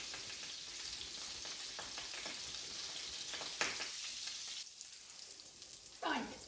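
Butter sizzles steadily in a pan while elderflower fritters fry. The crackle is faint and continuous, with a couple of brief louder spits and stirs and no talking.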